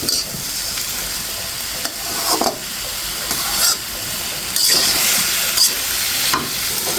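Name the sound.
stirring bottle gourd (lau) frying in a pan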